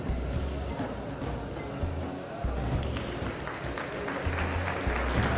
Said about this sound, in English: Everyone applauding the athletes as they're walking away.